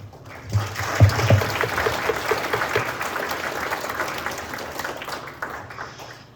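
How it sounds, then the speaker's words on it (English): An audience at a beluga summit gives a speaker a round of applause, with a few sharp claps up front building into sustained, moderately loud clapping that fades toward the end. "How about a big round of applause for Luke?"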